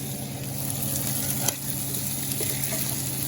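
Chicken wings sautéing in a pan, a continuous close sizzle and frying crackle with a few faint stirring knocks, no talk.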